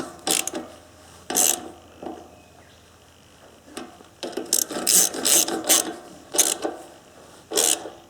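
A ratchet wrench tightens nuts on an MTD ride-on mower engine, with close, sharp bursts of clicking pawl strokes in uneven runs separated by short pauses.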